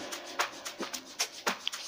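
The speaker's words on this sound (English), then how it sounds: "So I started entering a shaker loop which sounds like this." A shaker loop in an amapiano sgija-style beat built in FL Studio Mobile at 112 BPM, playing soft, bright rhythmic shakes of fairly even spacing, quiet and alone.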